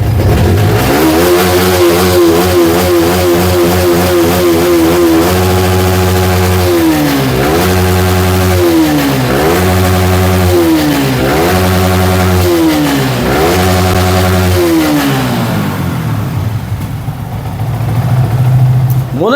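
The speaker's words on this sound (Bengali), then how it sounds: "দেখেন গাড়ি সাউন্ড" A Yamaha R15 V3 motorcycle engine idles, then revs in a series of repeated throttle blips that rise and fall in a regular rhythm, loud and close.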